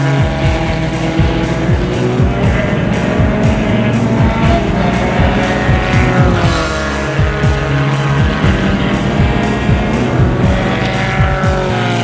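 An MRF Formula 1600 single-seater howls loudly and steadily around a racetrack, its engine note rising and falling through gear changes with faint tire squeal, close and continuous.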